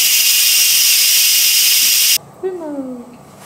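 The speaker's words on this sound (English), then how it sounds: "we're just going to turn it off and release the steam." Loud, steady steam hissing from an Instant Pot during pressure release, filling the first two seconds before cutting off abruptly, followed by a short voice.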